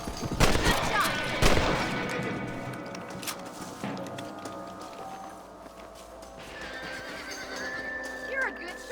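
Horse neighing in the Western video game Red Dead Redemption, with a loud whinny and hoof clip-clop early on, followed by quieter ambience, a later faint call, and voices talking over it.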